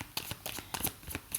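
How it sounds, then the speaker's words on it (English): Modern Witches Tarot cards riffle and flick in a steady run of quick papery bursts, close up and soft, with no voices over them. "I'm just shuffling the cards on behalf of the collective"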